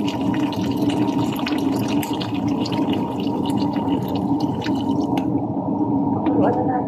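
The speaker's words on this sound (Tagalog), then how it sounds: "Ngayon, lalagyan na siya natin ng tubig." Water being poured into a cooking pot over chicken pieces, a steady broadband rush of liquid filling the pot for several seconds, fairly loud and continuous, with some clinking near the end.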